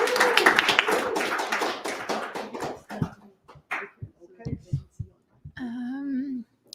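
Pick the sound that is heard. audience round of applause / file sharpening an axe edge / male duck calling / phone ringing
audience round of applause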